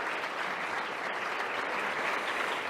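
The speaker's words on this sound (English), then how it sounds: "So one more round of applause for the panelists." Steady, dense audience applause for a panel at a Canadian Club Toronto outlook event, a continuous even wash of many hands clapping with no voices standing out.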